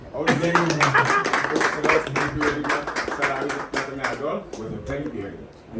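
A small group at a hospital event claps briskly and steadily for several seconds while people speak over the applause.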